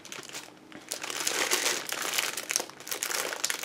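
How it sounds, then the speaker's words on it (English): Plastic packaging of an AliExpress cross-stitch kit being opened and handled, producing close, continuous crinkling and rustling with uneven swells, fairly quiet and with no talk. "Sorry for all the crinkling"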